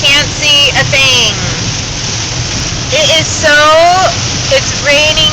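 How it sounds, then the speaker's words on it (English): Heavy rain drums hard and continuously on a car during a Florida thunderstorm while driving, a dense roar running throughout while a person talks loudly over it in several bursts. "It's raining so hard that I can't even see out the window."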